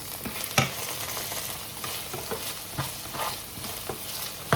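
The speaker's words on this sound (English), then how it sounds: "And I will add more oil, just a bit. Okay, then we'll put our onions" Onions frying in oil in a pan for pork chop afritada, a continuous close sizzle broken by occasional stirring knocks and scrapes.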